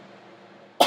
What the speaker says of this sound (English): there's something in here making me cough